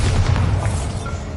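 A Bombarda blasting spell in the Hogwarts Legacy game goes off as a short, loud, low explosion boom that rumbles briefly.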